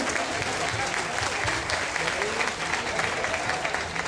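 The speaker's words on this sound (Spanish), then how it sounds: "Así que un aplauso fuerte" Steady applause from an audience at a political gathering in Nayarit, welcoming a speaker; dense continuous clapping fills the whole stretch at an even level.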